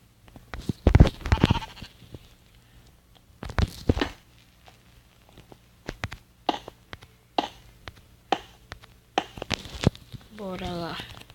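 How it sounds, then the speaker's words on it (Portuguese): Sheep in a video game bleat several times in short, fairly loud calls scattered over the stretch, with other clicky game sounds and a wavering bleat near the end. "Fica quieto, ovelha. Antes que eu te mata."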